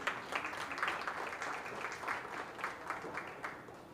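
Audience applause for exhibitors in the show ring at a county fair open beef show, a soft, steady patter of many hands continuing throughout, fairly distant and moderately quiet.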